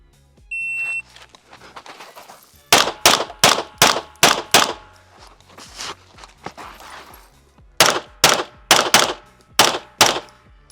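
Pistol shots fired at USPSA targets during range practice, sharp loud cracks in quick bursts: a string of about six, a pause, then another rapid string of about six, with a short electronic beep before the first burst.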